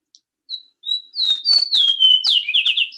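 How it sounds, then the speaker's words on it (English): A fox sparrow, a large sparrow, sings a rich, clear whistled song in a winter Northeast setting: a few soft opening notes, then a loud, continuous run of sliding whistles and buzzy trills, close and alone. "Fox sparrow, this is a larger sparrow that scratches around, and notice how rich and clear his song is."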